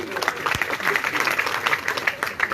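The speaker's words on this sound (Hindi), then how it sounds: "सुगंध जी के लिए जोरदार तालियां, लाठियां खाई इन्होंने।" A crowd at a political rally in Alwar claps and applauds steadily and moderately loud for a few seconds, with some voices mixed in.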